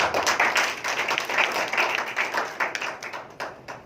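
A church congregation applauds for Jesus at a sermon, a dense crowd clapping in fast, steady rhythm that stays loud throughout.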